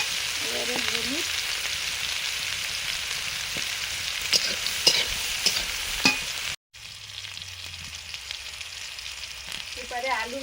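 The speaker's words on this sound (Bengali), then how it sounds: "এবারে আলু ভাজা হচ্ছে" Potatoes with beans, carrot and cabbage fry in a pan, a close, steady sizzle with scraping stirs and a few clinks, briefly cut off partway before the hiss resumes.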